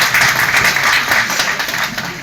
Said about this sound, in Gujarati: તાળીઓના ગડગડાટથી એમને વધાવી લેવામાં આવે